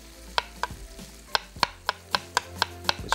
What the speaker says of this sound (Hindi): इसको बारीक स्लाइस करके